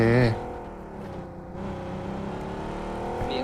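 In PUBG Mobile, a car's engine drones with a steady, rising hum as the vehicle is driven, and a player talks over the motor noise.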